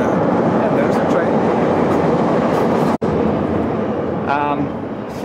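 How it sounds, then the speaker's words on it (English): A train rumbles past nearby with steady broadband roar and rattling wheels, loud and continuous throughout, easing slightly near the end, with a brief high horn-like tone toward the close. "And there's the train."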